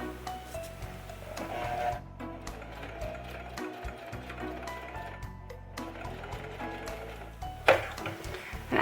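A sewing machine runs in continuous busy bursts, stitching ribbon loops onto a baby onesie, with brief pauses and a few clicks and rustles nearby.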